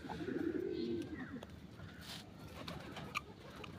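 Pigeons kept in a backyard loft coo low and steady for the first second and a half, then fade into a soft, continuous outdoor background with a few faint clicks and chirps.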